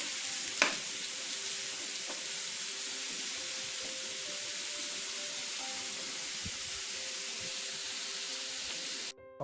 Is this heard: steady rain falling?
no